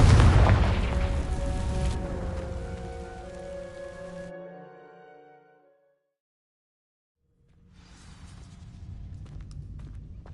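In the Hogwarts Legacy game, a Confringo fire spell hits dry vines with a loud booming blast and crackle that rings out with tonal shimmer and fades into silence, then soft crackling and rustle return.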